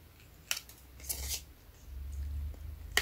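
Scissors snip the edges of an autumn-themed scrapbooking embellishment, a few sharp separate cuts spread over a few seconds with quiet handling between them, close and crisp, no talking.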